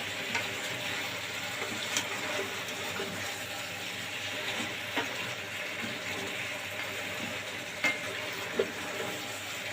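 Ridge gourd sizzles and fries in a pan while being stirred, a steady wet hiss with occasional soft clicks and scrapes of a spoon, close and alone with no talk.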